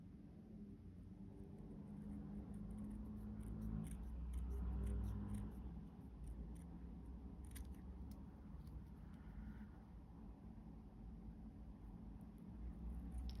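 Scissors cutting paper for a miniature apartment build, a series of faint, close snips and rustles over a low background rumble, with no talk.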